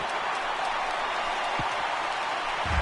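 Stadium crowd of over 39,000 on its feet cheering in a baseball video game, a steady loud roar and applause that fills the whole stretch with no break.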